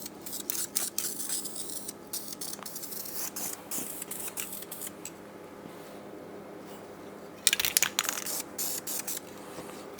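Close, intermittent hissing bursts from an aerosol can of primer paint, short spurts separated by gaps, with a louder sustained spray near the end.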